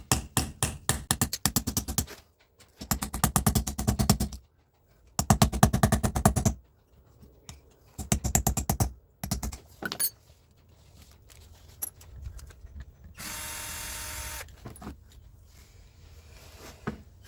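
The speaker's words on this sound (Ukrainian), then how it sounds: "І потихесеньку рубаємо болт." A chisel hammered against a bolt on the diesel injection pump of an Opel Vectra B gives bursts of rapid metallic impacts. Each run lasts a second or two, with short pauses between, and quieter scraping and knocking follow.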